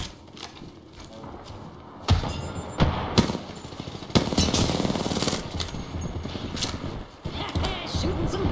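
Video game gunfire in a ranked solo match: scattered bursts and sharp single shots of varying loudness, with thuds and action noise between them.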